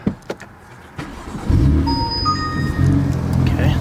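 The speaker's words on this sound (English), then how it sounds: "obviously the car started" A BMW F80 M3 with newly installed aftermarket intakes turns over and fires up, the starter whirring into a loud, rumbling idle with a rising whine after a few soft clicks at the start.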